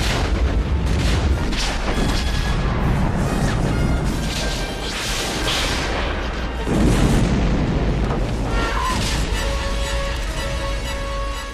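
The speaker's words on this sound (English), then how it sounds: "so many explosions" Explosions from Indiana Jones film stunts thunder as continuous heavy booms and crashes, loud and dense throughout, with rumbling low end and rolling debris noise.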